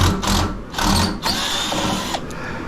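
A motor whirs in short bursts as a power driver backs screws out of an old welder's casing, loud and close, revving up and easing off two or three times.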